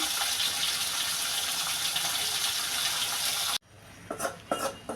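Cut eggplant pieces are rinsed under a running kitchen tap: a steady, close rush of water that cuts off abruptly, followed by a few light clinks and splashes.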